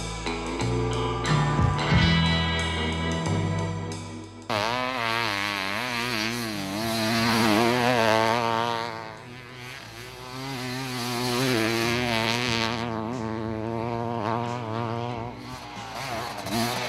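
A Yamaha YZF 250 motocross bike fitted with a tuned Honda CR500 two-stroke engine screams beside a dirt track, its revs climbing and falling in loud, close bursts with no talk over it.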